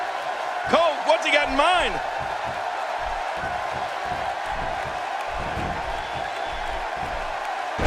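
Wrestling crowd at the Night Of Kings 2016 show, a steady broad roar filling the venue beneath a commentator's voice, with a brief louder swell early on.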